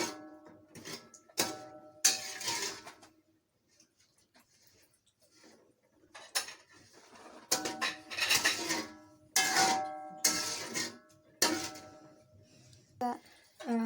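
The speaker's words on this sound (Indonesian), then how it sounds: "kemudian diaduk lagi." A spoon stirs a pot of spiced chicken dish in an Indonesian home kitchen, giving a few bursts of scraping and clinking separated by quiet gaps, close and fairly loud, with no talk.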